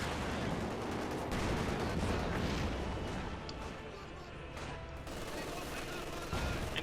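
Gunfire and artillery from a Company of Heroes 2 battle, with an ISU and a Panther tank in action, crackle as dense overlapping bursts and booms at moderate level, continuous and busy with no pause.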